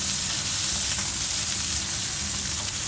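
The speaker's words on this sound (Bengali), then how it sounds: "এখানে সব রেডি করে শুধু তেল দিয়ে দিচ্ছি পাতিলায়। পেঁয়াজ কুচি দিয়ে দিলাম, মাছটা একটু দিচ্ছি।" Fish and chopped onion fry in hot oil in a pot, giving a loud, steady, dense sizzle that holds without a break from start to finish.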